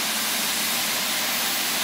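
A steam locomotive engine in the game Train Sim World gives off a steady, loud, broadband hiss with a low rumble beneath, unchanging for the brief stretch with no speech.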